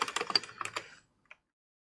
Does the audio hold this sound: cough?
no